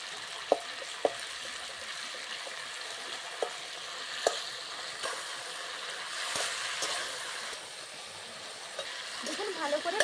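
Nigella (black cumin) seeds and a split dried red chilli fry in hot oil for a rohu fish curry, a steady close sizzle broken by scattered sharp pops and clicks, with a brief bubbling flourish near the end.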